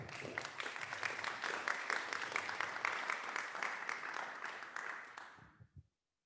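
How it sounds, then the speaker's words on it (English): Audience applause follows a plenary talk at an academic conference, a steady patter of many hands at moderate distance that carries on for several seconds before tapering off and stopping abruptly. "This was your applause."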